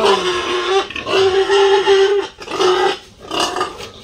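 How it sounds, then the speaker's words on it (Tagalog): Hungry pigs on a pig farm squeal and grunt loudly in long, strained, nasal bursts, several overlapping calls close by with short gaps between them. "Gutom na yung baboy."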